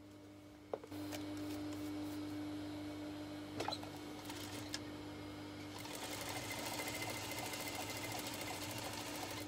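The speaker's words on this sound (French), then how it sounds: "Ce petit morceau, on va piquer, et vraiment sur le bord là, pour que ça se voit le moins possible, et pour le fermer" A sewing machine stitches right along a fabric edge while sewing a simple four-rectangle tunic, with a steady mechanical whir and rapid needle chatter that grows slightly louder midway, close up and alone.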